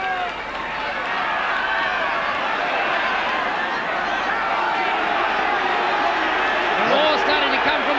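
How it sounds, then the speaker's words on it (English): Dense rugby league crowd noise from a 1985 New Zealand versus Australia test match, a steady loud roar of cheering for the Kiwis filling the stadium, with a commentator talking over it throughout. "Crowd for the Kiwis now."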